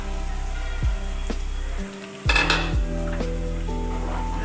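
Onion and tomato puree hits street-style pav bhaji paste in a hot pan, giving a burst of sizzling that settles into steady frying, with metal spoon scrapes and clinks against the pan.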